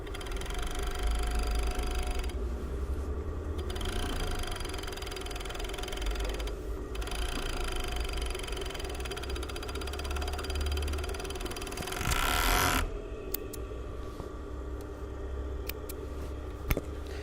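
An overlocker sewing the side seams of a skirt, a steady fast mechanical whir running continuously and fairly loud, with a brief louder rattling burst partway through.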